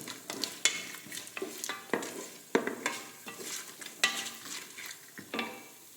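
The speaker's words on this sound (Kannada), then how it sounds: "ಜೀರಿಗೆ ಸ್ವಲ್ಪ ಹಾಕ್ಕೊಳ್ಳುವ, 1/4 ಚಮಚದಷ್ಟು. ಮತ್ತು ಸ್ವಲ್ಪ ಕಾಳು ಮೆಣಸು, ಇದನ್ನು ಚೆನ್ನಾಗಿ ಫ್ರೈ ಮಾಡ್ಕೊಳ್ಳಿ." Cumin seeds and black peppercorns fry in a pan with spatula strokes, a close crackling sizzle broken by repeated rhythmic scraping and stirring hits against the metal.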